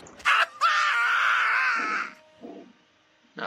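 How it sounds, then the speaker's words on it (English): A single loud, sustained scream from a non-player character in an Elder Scrolls video game, about a second and a half long and shrill, followed by a couple of faint low thuds. "Now that was a scream, if ever I heard one."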